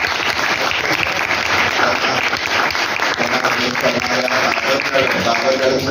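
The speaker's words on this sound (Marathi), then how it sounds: "पुन्हा एकदा काकांनी तुमच्यासाठी सगळ्यांनी टाळ्या वाजवल्या" A school audience at a mathematics exhibition and Marathi Language Day celebration applauds in a steady, dense wash of clapping that holds at full strength throughout, with voices mixed in beneath.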